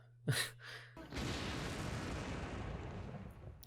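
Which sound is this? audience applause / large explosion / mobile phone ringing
large explosion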